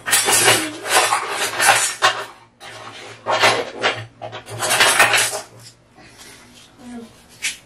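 A metal spoon scrapes and clatters around a pot of fisherman pepper soup in bursts of stirring, close and fairly loud, with short pauses between the rounds of stirring.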